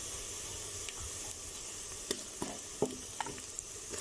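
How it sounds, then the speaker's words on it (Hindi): Mutton frying in a pot with light brown onions for deggi mutton korma, a soft continuous sizzle with a few faint clinks and stirring knocks, close but quiet. "इस स्टेज पर हम इसमें मटन ऐड कर देंगे।"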